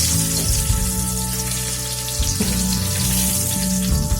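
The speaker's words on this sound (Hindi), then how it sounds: "एक बार इसे पलटते हैं और इसे सावधानी से फ्राई करें" Eggs for egg curry fry in a pan with a steady, loud sizzle and crackle that carries on without a break, close by and with no voices.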